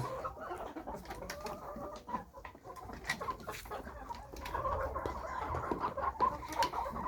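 Chickens clucking and squawking softly in a small flock, steady murmuring calls with occasional sharper notes, fairly close and without talk.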